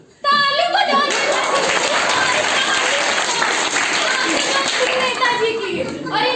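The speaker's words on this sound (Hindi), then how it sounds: "ताली बजाइए" Audience at a Bharat Scout & Guide comedy skit bursts into loud, sustained applause, dense hand clapping filling the room for about six seconds, with children's voices scattered underneath.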